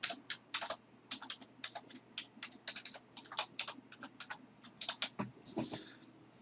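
Rapid, irregular keystrokes on a computer keyboard as a random passphrase is entered, close and fairly crisp, with no talking.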